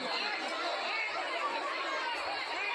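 Packed Bankura–Masagram local train carriage full of passengers, a steady wash of overlapping crowd chatter and murmuring voices, close and continuous with no single voice standing out.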